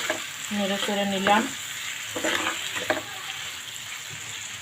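Food being stirred and sautéed in a hot frying pan, sharp sizzling bursts with scraping strokes of a spoon, close and loud, alongside a brief spoken word.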